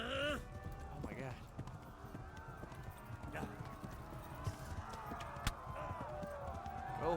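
A horse galloping in the video game Kingdom Come: Deliverance, steady rapid hoofbeats running throughout at moderate level, with a player's voice and occasional game sounds over the rhythm.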